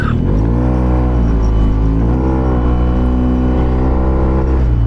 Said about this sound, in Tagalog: Hindi ko alam kung may ginawang upgrade dito si Jeff sa makina, pero sobrang lakas sumipa boy.